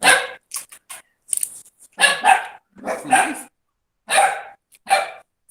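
Several dogs bark in short, loud bursts with brief pauses between them, close by and sharp, with no voices.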